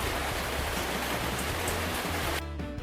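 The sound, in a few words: rain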